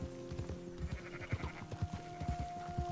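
Sheep bleat repeatedly in Red Dead Redemption 2 gameplay, several overlapping calls at moderate distance alongside soft hoof clip-clop and a steady in-game tone, with no talking.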